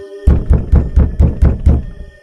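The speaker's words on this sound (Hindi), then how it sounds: "तभी फिर से कोई दरवाजा खटखटाता है" Knocking on a door as a horror-story sound effect: seven loud, evenly spaced hollow knocks, close and alone with no talk.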